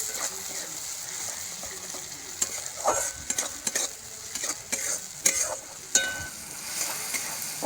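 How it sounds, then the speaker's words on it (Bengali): Chopped tomatoes sautéed with mustard paste for a river chanda fish curry, sizzling steadily in a pan with sharp scrapes and clinks of a stirring spatula at intervals; no talking. "এবার সর্ষে বাটা দিয়ে আরেকটু কষিয়ে নেব।"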